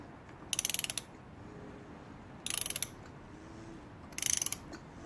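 Ratchet wrench tightening the oil filter housing cap on a 2002 BMW 320i during an oil change: three short bursts of rapid clicking separated by pauses, close and clear.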